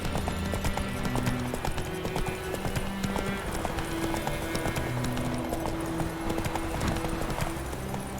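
Roach, Geralt's horse in The Witcher 3, gallops with steady rapid clip-clopping hooves under a low musical bed, close and continuous throughout, with brief muffled voices.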